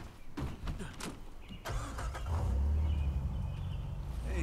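A car engine in the video game Uncharted 4: A Thief's End cranks and catches, then settles into a steady low idle after a few clicks and thumps.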